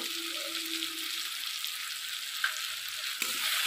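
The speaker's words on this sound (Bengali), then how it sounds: "দিয়ে ভালো করে আমি টমেটোটা মশলার সঙ্গে কষে নেব, ভেজে নেব মশলার সঙ্গে" Chopped tomatoes frying with spices in a pan for a homestyle chicken curry, giving a steady close sizzle with a soft brief clunk near the end and no talk.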